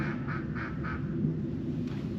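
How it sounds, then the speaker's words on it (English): Four evenly spaced quacks from ducks nearby, rhythmic and clear over a low steady rumble of background noise. "They're the local ducks."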